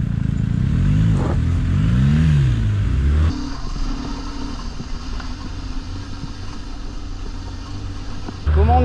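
A car engine revs hard with rising and falling pitch sweeps, then settles into a lower, steadier running drone before surging again at the end. No tyre squeal is evident.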